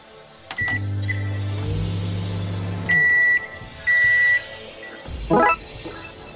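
A microwave oven in the video game Darkside Detective 2 hums as it runs, then gives three loud, evenly spaced electronic beeps when it finishes.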